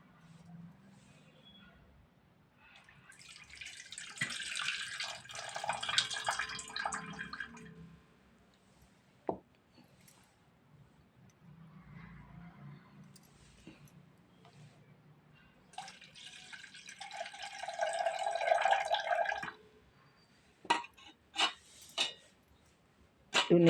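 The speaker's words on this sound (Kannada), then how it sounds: "ಈಗ ನೀರು ಬಸ್ಕೊಂಡು ಮಿಕ್ಸಿಗೆ ಹಾಕ್ಕನ್." Water draining off soaked chana and urad dal before grinding in a mixer, heard as two longer bursts of pouring and trickling separated by quiet stretches, with a few sharp drips and knocks near the end.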